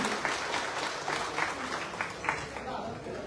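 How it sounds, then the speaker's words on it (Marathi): An audience of senior citizens at a Shiv Sena event applauds for Vilasji Joshi, a dense burst of clapping with rhythmic swells while an announcer's voice carries over it. "एकदा जोरदार टाळ्या वाजवूया विलासजी जोशी यांच्यासाठी."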